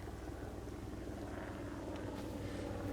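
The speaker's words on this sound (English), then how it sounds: "I hear a plane or something going past." An airplane passes somewhere overhead in open countryside, heard as a faint, steady low drone that holds evenly throughout with no voices over it.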